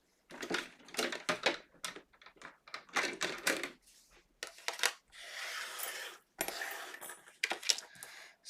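A die cutting machine runs paper through for a 2022 DIY desk calendar, giving bursts of crunching, clattering mechanical noise in irregular stretches, close and fairly loud with short pauses between passes.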